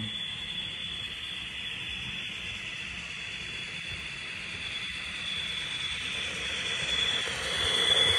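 A Lematec CC72000 model locomotive runs through a curve of track, giving a faint, steady motor whine with soft rolling rumble that swells slightly toward the end.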